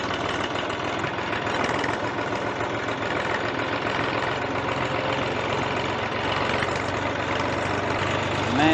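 A Massey Ferguson 231 tractor engine idles steadily nearby, a low, even chugging rumble with a slight knock that holds constant throughout.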